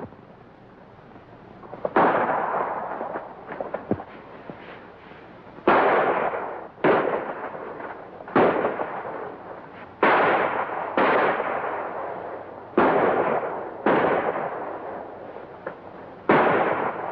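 Gunfire in a 1938 western film, a series of loud sharp shots at irregular intervals, each ringing out with a short echo over a quiet hiss.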